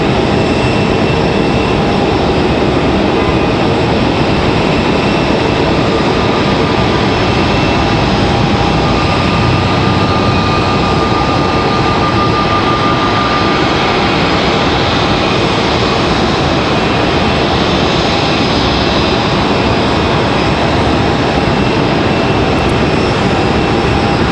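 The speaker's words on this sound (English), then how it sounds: "So FedEx will run full length the runway there, go down all the way down to their terminal." A FedEx plane rolls the full length of the runway at Raleigh-Durham International, a loud, steady engine roar that fills the air without pause, heard from nearby with no talking.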